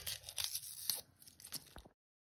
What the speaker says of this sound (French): des oignons que je suis en train d'éplucher